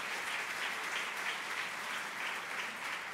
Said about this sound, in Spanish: dele un fuerte aplauso al Rey de la Gloria